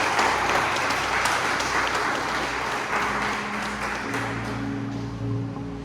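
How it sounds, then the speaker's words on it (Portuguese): A church congregation applauds during a sermon, giving a steady, dense wash of clapping that fades slightly near the end as a low hum rises beneath it. "Se você pode, dá uma salva de palmas ao Senhor em seu lugar."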